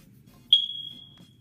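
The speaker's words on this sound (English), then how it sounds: "That smoke detector?" A smoke detector gives a single sharp low-battery chirp, a short bright tone that fades over about a second. The chirp is clear and near, set against faint low room hum.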